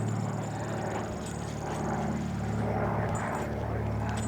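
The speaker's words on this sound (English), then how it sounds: "Plane way up there." A propeller airplane drones steadily high overhead in an open sagebrush area near cell towers, a continuous low hum under wind and no talking.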